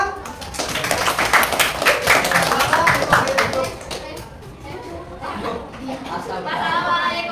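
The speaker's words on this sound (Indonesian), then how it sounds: "Oke, tepuk tangan." A classroom group breaks into brisk clapping after a discussion answer, many hands patting fast and close, fading midway as chatter and voices take over, with scattered claps continuing.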